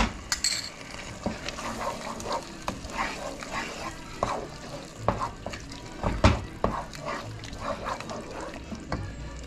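Tomato purée stirred into shrimp in a pan for spicy camarones enchilados, a close, quiet sizzle under repeated scraping and clinking of a utensil against the pan, with a louder knock near the end.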